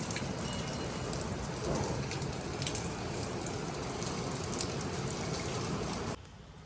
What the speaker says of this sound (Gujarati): અમારે તો અહીંયા વરસાદ શરૂ થઈ ગયો